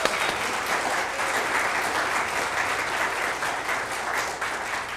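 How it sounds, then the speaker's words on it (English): An audience claps for volunteers at a bread feast event, a dense, even wash of applause that holds steady throughout the clip. "a huge round of applause for our volunteers up here"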